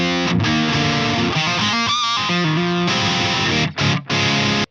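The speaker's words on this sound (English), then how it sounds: "So this is the sound of the amp without the pedal." Distorted electric guitar through an amp's crunch channel with no boost pedal, loud chugging chords and riffs played alone, briefly cutting out near the end.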